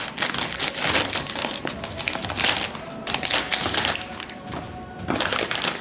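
Scissors cut across the top of a crinkly chip bag for walking tacos, giving close, loud bursts of crumpling and crackling plastic with brief pauses between cuts.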